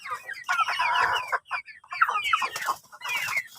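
A native chicken laying eggs clucks and cackles close by in a quick series of loud, squawky calls with brief pauses between bursts.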